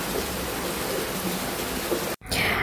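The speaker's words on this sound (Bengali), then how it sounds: "দেখুন বাইরে কি পরিমাণে বৃষ্টি" Heavy rain pours steadily outdoors as a dense, continuous hiss, with a brief drop-out near the end before the downpour resumes.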